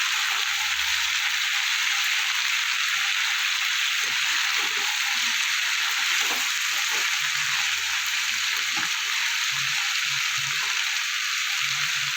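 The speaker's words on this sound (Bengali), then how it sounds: "এবার আমি কেটে রাখা ওলকপিগুলো দিয়ে দেবো। দিয়ে ভালো করে আমি একটু ভেজে নেব।" Kohlrabi and partly fried potatoes frying in a pan, a steady loud hiss of sizzling oil running throughout, with occasional soft clatters of stirring beneath it.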